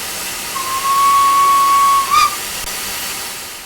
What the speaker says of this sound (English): The Greater Britain doesn't sound like a more conventional 3-cylinder locomotive.